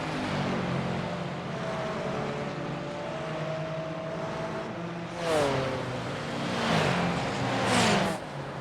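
GT4 race cars at Detroit Belle Isle, a BMW among them, roar past one after another, engines rising and falling in pitch as each passes close by, with a steady engine drone between passes.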